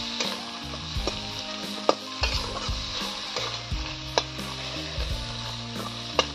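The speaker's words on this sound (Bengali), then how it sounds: "এই যে মশলাটা দিয়ে এইভাবে কষাতে হবে।" Masala for a crab curry with cabbage and spinach fries in a pan, a steady sizzle under repeated stirring strokes and sharp utensil clicks, with a low background tone humming throughout.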